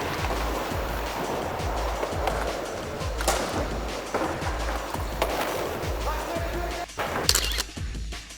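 Skateboard wheels roll and clatter across a hard floor with sharp board slaps, echoing in a large indoor skate park, with faint voices in the background.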